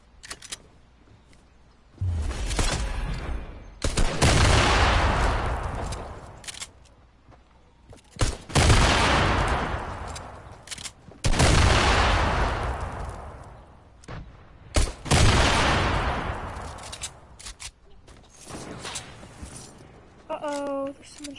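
Video game gunfire on a PS4 arrives in several loud separate bursts of shots and blasts, a few seconds apart with quieter gaps between them, and voices talk faintly in places.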